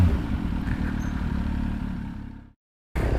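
An MV Agusta Dragster 800 RR motorcycle engine runs loud and close with a steady, rough mechanical drone, cuts out abruptly for a moment near the end, then roars back in.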